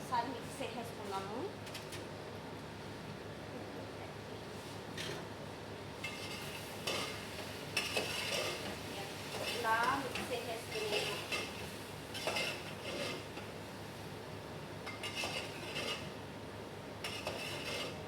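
A spoon scrapes and stirs chicken fried rice with tomatoes in a pan, clinking against the metal over a low sizzle, close and continuous, with a person speaking intermittently.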